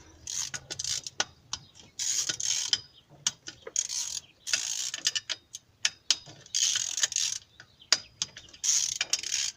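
Ratchet clicking in repeated bursts while loosening cylinder head bolts on a 2005 Nissan Sentra 2.5L engine, working from the middle outward; close, crisp pawl ticks in steady runs with short pauses between strokes, no talk.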